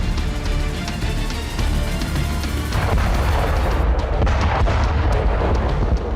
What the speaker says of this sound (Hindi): बिल्डिंग में घुसने से पहले एक जोरदार धमाका होता है